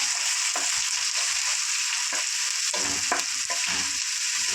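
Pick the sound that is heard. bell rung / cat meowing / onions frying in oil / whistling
onions frying in oil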